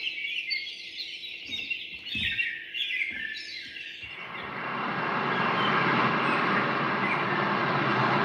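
Layered birdsong played from a keyboard: bright chirps and tweets over a steady tone, followed by a thicker, continuous wash of overlapping calls that grows fuller and louder, with no talk.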